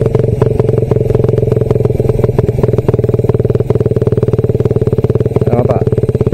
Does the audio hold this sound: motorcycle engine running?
yes